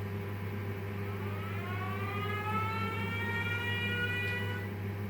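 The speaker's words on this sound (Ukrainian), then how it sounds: "Увага! Повітряна тривога." Air raid siren alert in Ukraine, a distant wailing tone rising and holding over a steady low hum, continuous and fairly faint, with no talking.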